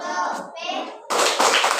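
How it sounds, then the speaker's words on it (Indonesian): Children in a classroom do the tepuk lope clapping game: a chanted group voice comes first, then a loud burst of many small hands clapping in unison takes over for the last half. "pimpin tepuk lope"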